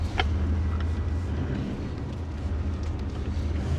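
A 4WD pushing through a soft, flooded desert track in the Simpson Desert, a steady low engine rumble with constant droning and wet road noise throughout, close and unbroken.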